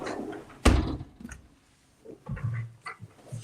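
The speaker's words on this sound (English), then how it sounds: "I'll close this door." A door to the outside swings shut with a single sharp thud, followed by a quieter room with faint outdoor sounds, as neighbors' chickens are about.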